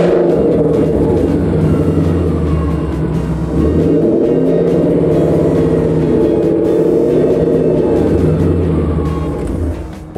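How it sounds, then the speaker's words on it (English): A 5.0 Mustang engine running on E85 fuel revs steadily up close, a loud continuous rumbling drone with a brief dip and rise in pitch partway through, holding nearly level throughout. "As I rev the car up, it's grabbing some more of that fuel from the tank."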